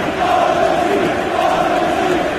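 A packed football stadium crowd at Old Trafford gives a loud, sustained ovation, a dense roar with a chanting tone that holds steady throughout.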